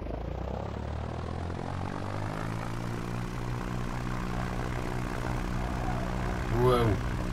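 In the X-Plane flight simulator, a propeller airplane takes off down the runway with a loud, steady engine drone that rises in pitch as it speeds up, and a brief whine swells near the end.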